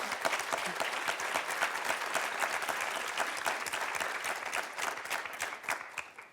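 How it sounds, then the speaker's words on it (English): A conference audience at the HaDEA Showcase Event claps for its speakers, a full, even roar of many hands that keeps going for several seconds before easing off at the close. "Could get a round of applause"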